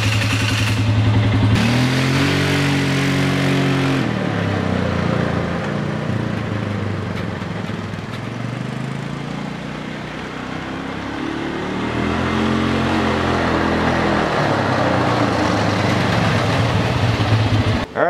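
A Polaris Sportsman 400 ATV engine running after an ECM bypass, loud and close, idling then revving up twice in smooth rising and falling swells, with no talking.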